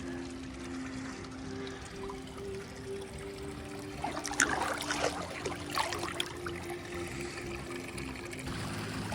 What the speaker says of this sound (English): So the waterfall there seems to have a little more flow now.